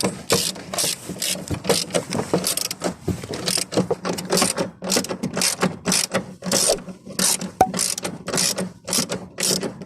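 Ratchet wrench tightening the towbar mounting bolts on a VW Golf Mk5, a fast run of sharp clicking strokes repeating steadily and close up with no talk.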